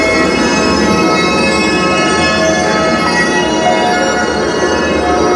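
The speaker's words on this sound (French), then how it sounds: "j'entends les carillons. Carillons, ça veut dire neige." Chimes ring out on Main Street at Disneyland Paris during the Christmas season, a loud, steady bell tone sustained through the whole stretch over general park ambience.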